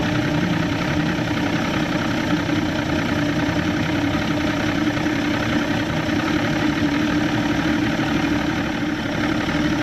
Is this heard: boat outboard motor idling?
yes